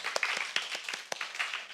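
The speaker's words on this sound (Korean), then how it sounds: "우리 격려의 박수 한번 쳐줍시다" A church congregation claps in encouragement for high school seniors preparing for their college entrance exam, a brief burst of lively mixed applause that carries through to the end.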